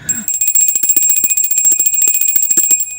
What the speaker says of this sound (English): Almost forgot to ring the bell then